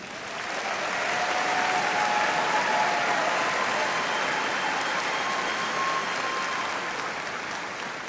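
A large audience at a summer graduation ceremony gives doctoral graduates a sustained round of applause, a dense, even roar of clapping that swells and holds for several seconds before easing off.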